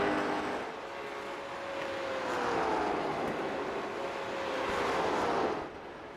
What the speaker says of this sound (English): These late model stocks sound fantastic ever since their update for prior season